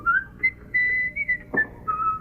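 A person whistles a short, bright melodic tune in separate phrases with brief gaps between them, close and clear. Near the end a single soft thump cuts in, and no one speaks.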